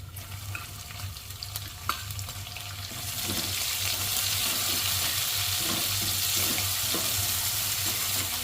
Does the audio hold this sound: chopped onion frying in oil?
yes